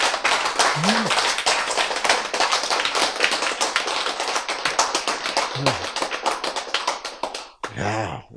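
A class claps in a lecture room, rapid sharp hand claps sounding close and fairly loud, with brief spoken voices breaking in, then a final short burst.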